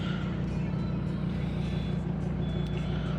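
A Volvo V70 D5 diesel engine idles steadily nearby, a low continuous rumble with a slight rhythmic throb throughout.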